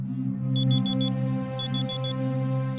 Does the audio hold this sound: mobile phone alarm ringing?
yes